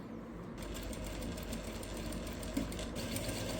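A sewing machine stitches a half V neckline on a garment, a steady close mechanical whir that starts after a brief moment and runs without a break.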